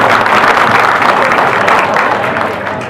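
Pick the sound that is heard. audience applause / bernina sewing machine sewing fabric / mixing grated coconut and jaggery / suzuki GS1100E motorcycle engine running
audience applause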